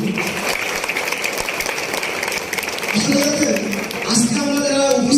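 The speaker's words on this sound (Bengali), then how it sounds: "প্রত্যেকে আবার একটা করতালি আশা করি" An audience at a gathering applauds with steady, moderately loud clapping, while a voice talks over it and other voices join in toward the end.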